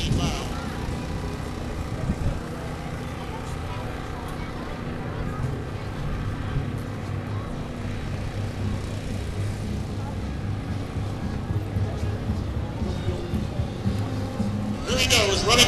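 A jet-powered car races down an airport runway at an air show, passing 300 miles an hour: a loud, sustained engine roar that holds steady throughout, with a commentator talking over it.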